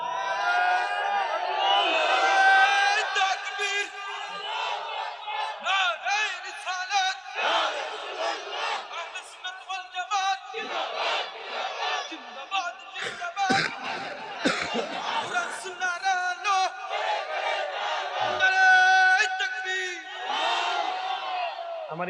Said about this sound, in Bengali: এবার তাকবীর দেন জোরে।